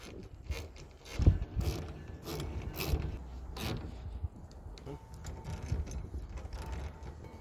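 Clamps being tightened down on a tonneau cover over the bed of a 2020 Ram 1500 Warlock Quad Cab with a 6'4" box, giving soft mechanical clicks and creaks with several brief louder knocks, close by and without talk.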